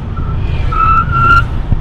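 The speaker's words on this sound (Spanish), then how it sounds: "Tan bestial la potencia instantánea que le da, que las ruedas no son capaces de traccionar al principio." A Hyundai Kona EV launches hard from a standstill, its front tires briefly spinning and chirping over a low road rumble amid nearby traffic.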